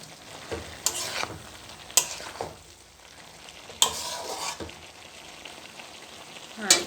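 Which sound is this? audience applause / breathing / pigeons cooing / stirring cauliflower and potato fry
stirring cauliflower and potato fry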